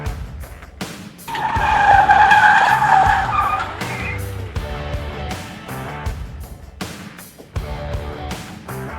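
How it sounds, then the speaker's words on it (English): Tires skidding and squealing as a Dodge spins out on a racing school track, a long loud screech over engine roar with brief dropouts, close by. "See how many times Garrett spins it"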